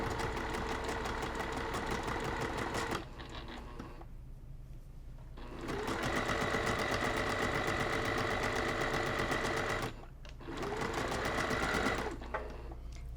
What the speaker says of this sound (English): Put it back in your sewing machine and stitch